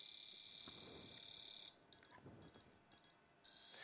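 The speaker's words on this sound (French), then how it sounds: "Deux doubles bips sur le faisceau 2." A Prodatec Mirador alignment unit on beam 2 drops a continuous high tone into two sets of crisp double beeps, then returns to the steady tone; close and clean.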